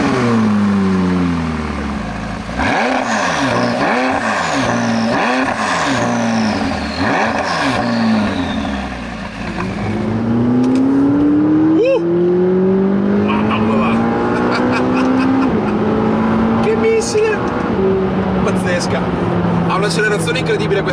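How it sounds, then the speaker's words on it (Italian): McLaren 540C sports car accelerating hard: the engine revs rise and drop through several quick gear changes, then pull into a long climbing wail, loud and close, with someone talking over it. "Ha un'accelerazione incredibile questa macchina"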